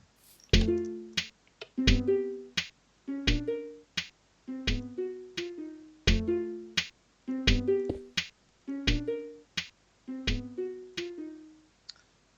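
A plucky, bell-like blocky melody of short repeated notes in a bouncy pattern, clean and moderately quiet, from Minecraft-style note blocks playing a song.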